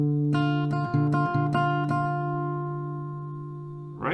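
Acoustic guitar picking a fingerstyle pattern built on alternating bass and top notes: a few clear plucked notes in an uneven rhythm, then a chord left to ring and fade, close and alone.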